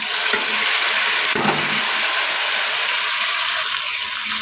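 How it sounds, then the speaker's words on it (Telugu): Chicken frying Andhra style in a pan while being stirred, a steady loud sizzle throughout with a brief scrape of the spoon partway through, no voices. "చికెన్ వేసిన ఒకసారి బాగా కలుపుకోవాలి"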